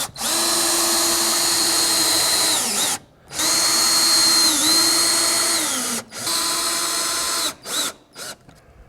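A power drill drives toe screws through the top of a butt-and-pass log siding corner, running loud and steady in three long bursts, each winding down as the screw seats, then a few short blips at the end.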